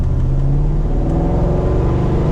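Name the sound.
V8 petrol car engine accelerating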